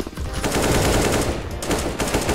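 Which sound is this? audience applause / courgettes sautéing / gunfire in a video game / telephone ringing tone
gunfire in a video game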